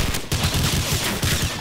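Rapid bursts of gunfire in the video game Call of Duty crackle in quick succession, loud and close, with a brief gap before the shooting resumes.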